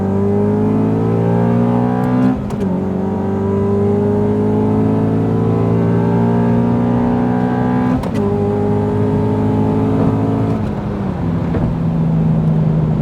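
A stock Honda CL7 Euro R and a modified CL9 Type S pull hard in second gear, loud close engine drone rising steadily in pitch over about thirteen seconds with brief breaks at gear or throttle changes, no talk.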